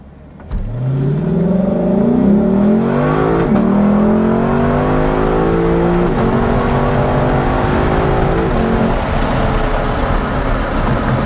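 A Lexus LC500 engine roars up hard from a launch on a track, revving through rising pitch sweeps with quick gear changes, loud and close, then holding a strong steady drone.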